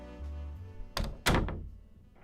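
A door is opened, followed by two solid thuds close by, the second louder and ringing briefly before quiet returns.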